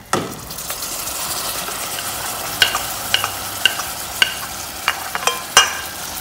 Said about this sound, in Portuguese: vou colocar as bananinhas agora.